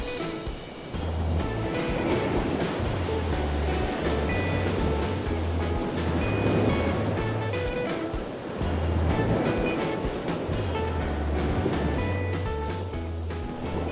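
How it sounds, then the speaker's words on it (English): Ocean waves wash in continuously, a full steady roar of surf with a low humming tone running underneath. "Can you hear the waves while I color?"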